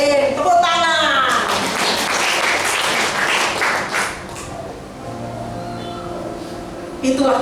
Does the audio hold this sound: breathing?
no